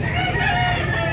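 A rooster crows loudly and close by at a poultry seller's in Consolacion, Cebu, a short, sustained call filling the whole moment.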